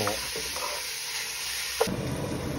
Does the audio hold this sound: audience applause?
no